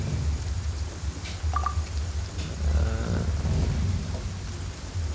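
Steady rain pours down in Genshin Impact with low rumbling underneath, a continuous wash of noise at moderate level, no voices.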